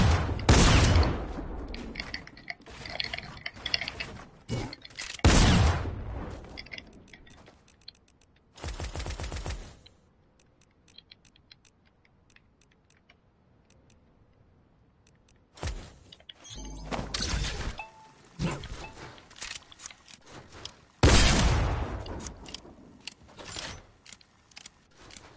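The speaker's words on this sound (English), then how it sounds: "This fire rate so slow for attack shotgun." Tactical shotgun blasts in Fortnite, several loud separate shots spaced by pauses of a few seconds, with quieter clicks and game noise between them.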